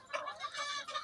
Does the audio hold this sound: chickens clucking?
yes